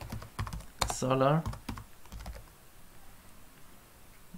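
Keys clack on a computer keyboard while a search is entered on Amazon, a handful of quick taps near the start and middle, quiet and close, with someone speaking Arabic briefly over them.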